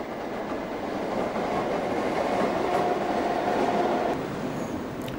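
Great Eastern Class 315 and 321 electric trains pass Pudding Mill Lane with a loud, sustained rolling roar and wheel rumble, plus a faint squealing tone through the middle.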